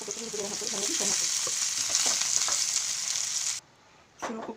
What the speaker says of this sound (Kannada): ಕೊತ್ತಂಬರಿ ಪುಡಿ ಹಾಕಿ ಚೆನ್ನಾಗಿ ಫ್ರೈ ಹಾಕಿ.